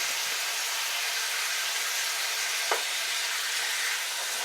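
Honey lime chicken fries in a pan with a steady, loud sizzle and hiss, and one brief knock from stirring partway through.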